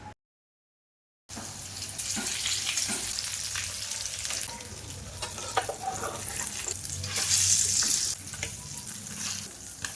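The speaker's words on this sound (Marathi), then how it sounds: "आता पॅनमध्ये आपल्याला घालायचं आहे तेल आणि हे काप." Brinjal slices sizzling in hot oil in a pan for a Marathi veg fish fry, a steady crackling fry that starts after a second of silence and swells louder near the end, with no talk.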